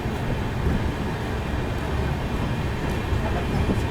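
Shreedham Express train pulling out of Gadarwara railway station, a steady loud rumble of rolling wagons with faint rail clatter running unbroken throughout, no voices.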